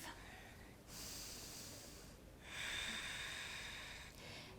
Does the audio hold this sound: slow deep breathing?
yes